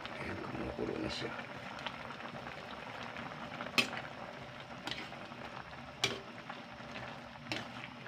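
Sauce for litson bubbles and simmers in a pot, a soft continuous boiling hiss close by with a few sharp clicks and knocks of kitchen handling.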